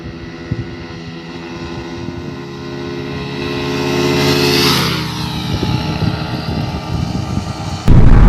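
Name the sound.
Yamaha MT15 and Suzuki Gixxer motorcycles in a drag race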